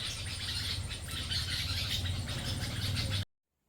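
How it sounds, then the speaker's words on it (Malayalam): Outside a home, a flock of birds calls together in a dense, fairly loud chorus of overlapping chirps that continues until it cuts off abruptly near the end. "പുറത്ത് കിളികളുടെ ഭയങ്കര സൗണ്ട് കേട്ടിട്ട് ഞാൻ പോയി നോക്കിയത് എല്ലാ കിളികളും കൂടെ ഒന്നിച്ച്"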